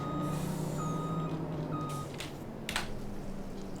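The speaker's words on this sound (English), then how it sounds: "the lorries do struggle to get back up that hill with the full load of water" A lorry hauling a full load of water in Farming Simulator 25 rumbles with a steady engine drone, while repeated reversing beeps sound over it and a brief hiss follows near the end.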